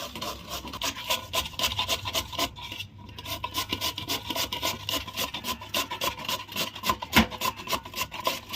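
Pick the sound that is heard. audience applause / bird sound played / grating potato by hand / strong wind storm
grating potato by hand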